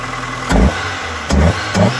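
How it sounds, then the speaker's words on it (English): A car engine fitted with a cone air filter idles with a low rumble, punctuated by three short throttle blips that swell loudly and drop back, recorded close by. "Let us get back to Bilal starting his car."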